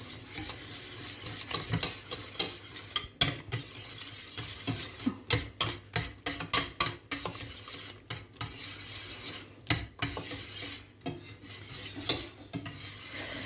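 Chocolate milk pudding with cream being stirred in a pot, a close, rhythmic scraping of a utensil against the bottom in quick repeated strokes over a low bubbling background, no speech.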